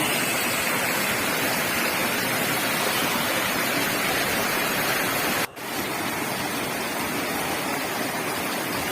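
Steady, loud rush of falling water fills the whole clip, a broad continuous roar of the nearby Rajadhar waterfall in hills, with one brief dropout midway.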